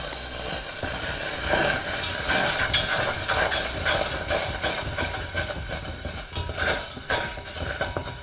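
Puree cooking in a pan with chilli and garlic oil for a chana chaat veggie casserole, giving a steady loud sizzle and hiss with scraping stirring strokes, close and continuous throughout.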